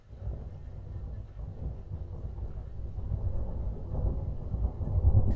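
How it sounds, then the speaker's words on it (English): A recorded thunder rumble, deep and continuous, building steadily in loudness across the stretch with a dense low roar and no voices. "I wanted to find a nice thunder sound so I could create a rumbling type of patch."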